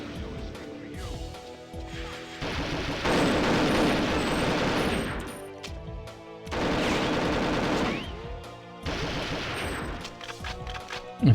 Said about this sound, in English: guns firing.